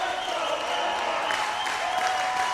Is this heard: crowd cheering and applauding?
yes